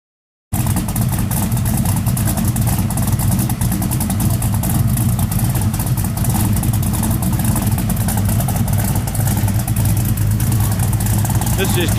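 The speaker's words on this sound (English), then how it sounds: "This just give you an idea of the sound of our 427, 500 horse, 500 foot-pounds pump gas motor" A 427 Ford stroker V8 in a 1968 Ford Mustang Fastback idles loud and steady with a deep rumbling burble, continuous after a brief moment of silence at the start.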